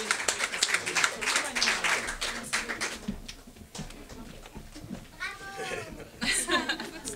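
A school audience claps and applauds for the students of a secondary-school talent show, with the applause rising and falling under a presenter's voice and children talking nearby.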